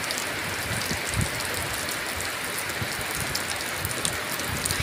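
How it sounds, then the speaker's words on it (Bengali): Steady rain falling on a village home on a wet afternoon, a dense even patter of drops on surfaces, constant and close throughout with no voices. "আসুন আমরা বৃষ্টিটা উপভোগ করি"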